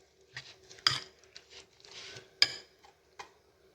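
A spoon stirs a moong dal chilla batter with chopped onion, tomato, green chillies and coriander in a bowl, giving quiet scrapes and two sharper clinks against the rim, close and sparse.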